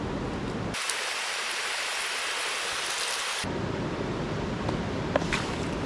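Gold panning in a river, swirling clay and gravel in a pan of water; steady broadband watery rush fills the whole stretch, one passage sounding brighter and hissier, with no voices.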